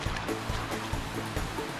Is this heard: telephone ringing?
no